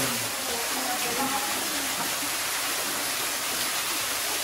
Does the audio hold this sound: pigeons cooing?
no